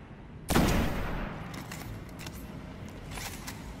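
A loud gunshot burst in the Destiny video game erupts at once, then trails into a lingering rumble with faint scattered reports further off.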